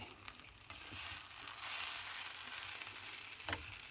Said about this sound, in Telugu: మొత్తం సాబుదానా పట్టేట్టు దీన్ని కలుపుకోవాలన్నమాట